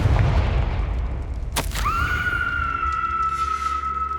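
Confringo spell blast in the Hogwarts Legacy video game: a sharp explosive crack over a rumbling low background, followed by a sustained ringing magical tone that lingers to the end.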